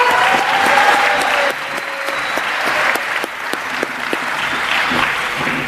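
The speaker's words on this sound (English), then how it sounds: "Please join me in giving the boys one more round of applause" A school awards ceremony audience applauds a boys' team that finished All-State runner-up, with steady, dense clapping filling the room from start to finish alongside a few faint voices.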